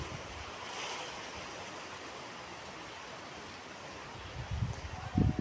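Fish curry broth pours into a cooking pan as a steady, even rushing wash lasting several seconds, with a few louder knocks and splashes near the end.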